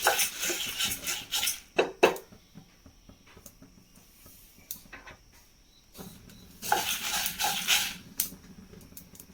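Roasted masala is stirred in a pan after the gas is turned off, bursts of close metallic scraping and clatter separated by quieter pauses.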